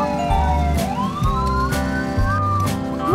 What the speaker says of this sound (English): On the road, ambulance, this car should pass first.